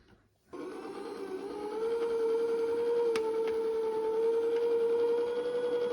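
An electric juicer motor switches on and runs at a steady, loud whine as whole kiwis with their skins are pressed for juice, with a slight rise in pitch after the start and no talking.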